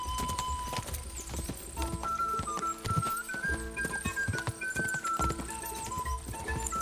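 Steady rhythmic hoofbeats of a galloping horse in Kingdom Come: Deliverance II, close and continuous, with synthetic game-style tones and effects layered over them.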